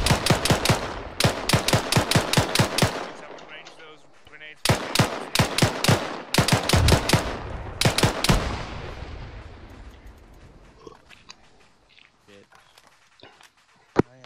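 Gunfire in the military video game Arma 3, loud rapid automatic bursts in several volleys, then a quieter stretch of scattered shots and movement, with one last sharp shot at the end.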